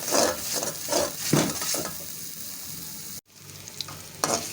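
Poppy seed masala roasting in a pan, soft dry sizzling with scraping strokes of a spoon stirring it steadily, then a brief cut and a fainter sizzle with a sharp clink near the end.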